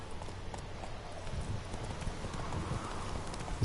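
Roach, a horse in The Witcher 3, trots steadily with a continuous clip-clop of hooves over low rumbling ground noise. The hoofbeats sound moderately close and there is no talk.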